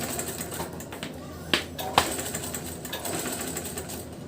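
A sewing machine stitches a blouse in a continuous mechanical whir. A couple of sharp clicks stand out partway through.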